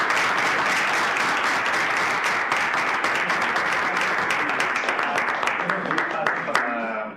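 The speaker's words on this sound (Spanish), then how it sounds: "primero, un aplauso." Applause from a seminar audience, a full, continuous clapping that holds steady for several seconds, then thins out into scattered claps and fades at the close.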